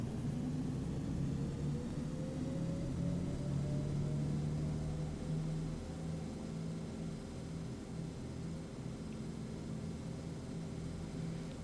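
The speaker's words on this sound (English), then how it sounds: "the engine now sounds broken as well, so I actually should report that as a defect" A broken bus engine in the OMSI 2 bus simulator drones steadily at low pitch for the whole stretch, with a wavering tone that slowly rises and shifts, loud and continuous without talk.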